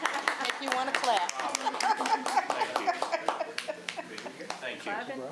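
A small audience claps at a city council meeting, with scattered, uneven hand claps that patter near the microphone and slowly thin out, while people talk and chuckle over them.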